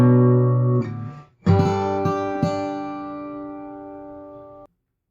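Fingerstyle acoustic guitar plays a short passage from a song: a ringing chord, a brief pause, then several plucked notes and chords that sustain and decay, close and unaccompanied.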